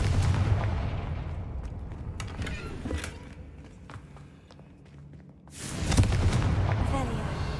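A Confringo blasting spell explodes in Hogwarts Legacy, a broad booming burst near the start, then creaks, footsteps and small impacts, and a second loud blast around the sixth second with rumbling debris.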